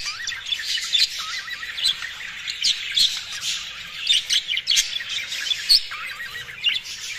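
Several birds kept together as breeding stock chirp and squawk in a steady, busy stream of sharp calls, fairly close and continuous, with no talking.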